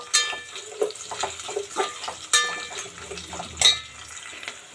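Two chopped medium onions cooking in a pan for green chutney pulao, stirred with a utensil that gives sharp metallic scrapes and clinks over a low sizzle, close by and without talk.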